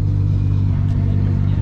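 A drift car engine at a drift competition revs steadily with a deep, continuous rumble, loud and close, holding a low droning tone throughout.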